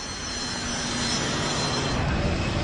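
An Air France Airbus A330 jet takes off on a flight to Paris, a loud, broad, steady engine roar with a high whine that builds gradually, with no talk over it.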